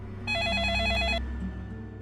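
A telephone ring tone sounds as a call is placed to the Versova police station. It is a steady, warbling electronic tone lasting about a second, clear over a low room hum.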